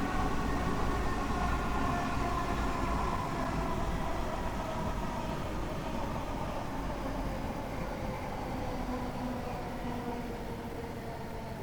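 Steady rumble and hum of a high-speed train in Train Sim World 2 on the South East High Speed line, running with its brakes applied, a continuous mechanical drone that holds at an even level throughout with no talk.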